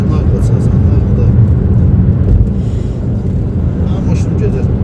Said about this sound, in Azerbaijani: Maşın gedir.